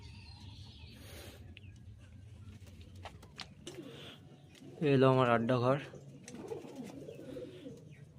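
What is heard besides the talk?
pigeons cooing in loft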